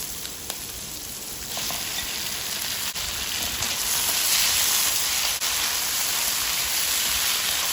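Beef and vegetables fry in a very hot pan with a steady, dense sizzle. It grows a little louder after the first couple of seconds and carries a few faint stirring clicks, and no one speaks.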